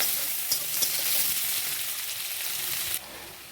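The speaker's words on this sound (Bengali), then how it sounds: "পেঁয়াজ ভালো করে ভেজে নেব" Chopped onions sizzle steadily in hot oil in a pan for an egg curry, a close, even frying hiss with a couple of brief clicks, ending in a quieter hiss.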